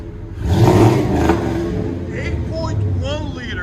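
2002 Chevy 2500HD with an 8.1L V8 and Flowmaster Super 50 exhaust revving up, a loud deep roar that swells and holds while people talk excitedly over it.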